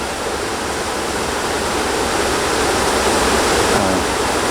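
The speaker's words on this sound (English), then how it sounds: "Some of it comes from that little creek." Water flowing in a small creek, a continuous broad rushing wash close by, steady and unbroken with no voices.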